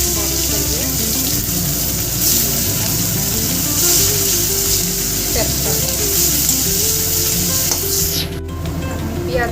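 Onion and onion stalks sizzle loudly in a pan for fish-head dal, a continuous close frying hiss with stirring scrapes, and a brief break near the end.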